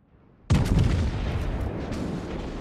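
Battleship main guns firing in World of Warships, the German Gneisenau against a Monarch: one sudden loud booming salvo after a quiet start, followed by a long rumbling roar that slowly fades.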